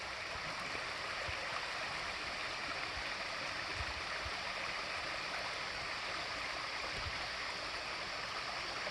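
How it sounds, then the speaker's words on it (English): A flowing stream at Turkey Foot campground in Kentucky, fed by water emerging from the ground, gives a steady, even wash of rushing water, close and continuous with no pauses. "So there's the stream."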